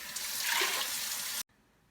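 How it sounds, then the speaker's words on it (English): Tap water runs steadily onto washed red lentils for about a second and a half, a loud, close, broadband splashing rush that cuts off abruptly, leaving quiet room tone. "After washing, now you add water, like 2 cups of water."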